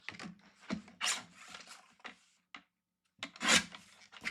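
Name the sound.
trimming a piece of red velvet cardstock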